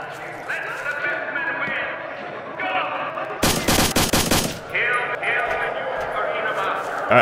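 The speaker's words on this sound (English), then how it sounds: "Yeah, they fucking shoot each other." Rapid automatic gunfire from computer-controlled soldiers shooting each other in STALKER: Shadow of Chernobyl, a loud burst of about a second between stretches of ambient game sound, with someone talking over parts of it.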